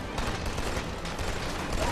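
Rapid, dense automatic gunfire from the M82 assault rifle in the shooter game Killzone, a loud unbroken burst of shots filling the whole stretch.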